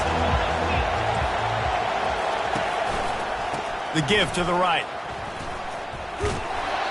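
Steady roar of a college football stadium crowd at a Nebraska versus Ohio State game, dense and continuous throughout, with a commentator speaking over it.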